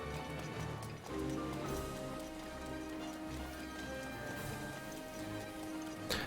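Continuous video game rain at Hyrule Castle in The Legend of Zelda: Breath of the Wild patters steadily throughout, fairly quiet, with clopping, hoof-like steps mixed in and no one speaking.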